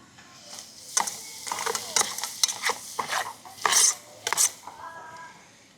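Garlic and ginger being stirred in a cooking pan at a campsite: close, irregular scrapes and clinks of a utensil against metal, with short pauses between strokes.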